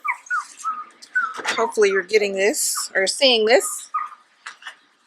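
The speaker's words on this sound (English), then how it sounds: "I apologize for the dogs in the background." Dogs whimper and yip in the background, intermittent and fairly faint beneath a person talking close to the microphone throughout.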